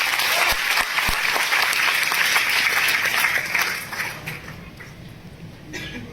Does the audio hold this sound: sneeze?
no